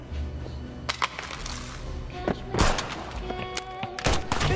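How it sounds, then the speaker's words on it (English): Sharp police gunshots crack out in a movie gym scene, scattered single bursts and a louder cluster near the middle, with crashing impacts and ringing debris between them over a tense background. "Police gunshots shattered the gym's brief silence, plunging it back into chaos"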